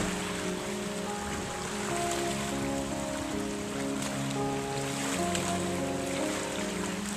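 Water rushes steadily and loudly, a continuous churning wash with a low engine-like drone underneath.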